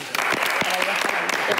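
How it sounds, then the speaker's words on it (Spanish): Brief, steady applause from a television studio audience, a continuous patter of many hands with a few louder individual claps standing out. "Yo creo que un aplauso, ¿no?"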